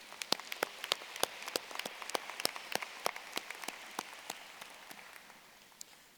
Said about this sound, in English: Let's give our supporters a warm round of applause,